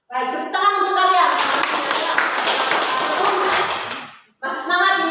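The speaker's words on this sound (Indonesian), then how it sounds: "tepuk tangan untuk kalian" Children in an Indonesian school classroom clap together in a brief burst of quick, loud, scattered claps, framed by a teacher's voice talking before and after.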